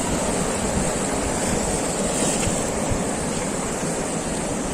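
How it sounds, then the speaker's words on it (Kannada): Steady roar of sea surf washing ashore at Padubidri beach, Karnataka, broad and continuous, with a windy rush over the whole stretch and no voices. "ಅದೇ ಅಲೆಗಳ ಬಂದಾಗ ಮತ್ತೆ ಪುಷ್ ಮಾಡುತ್ತೆ ಈ ಕಡೆಗೆ."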